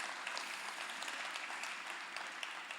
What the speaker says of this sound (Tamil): அது ஒரு பெரிய கைத்தட்டல்